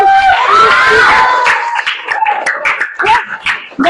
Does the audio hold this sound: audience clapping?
yes